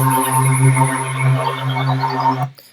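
A sustained, smooth stereo synth pad holds a steady chord with gentle shimmer and movement, then cuts off abruptly near the end.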